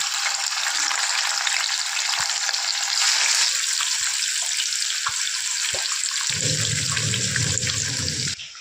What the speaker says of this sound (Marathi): आता उरलेले पीसेस पण आपण अशा प्रकारे फ्राय करून घेऊया